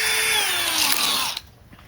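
A power drill with a 1/2 inch non-stepped bit cuts through very thin metal in one steady, loud whine with a slowly falling pitch, stopping abruptly after just over a second.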